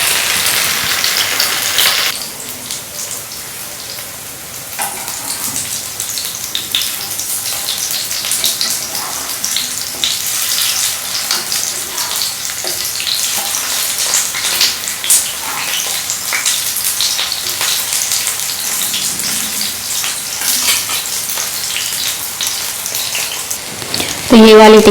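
Sweetcorn veg tikki frying in hot oil, a steady dense hiss and crackle like rain on a surface that holds through the whole stretch, with a brief clatter near the end.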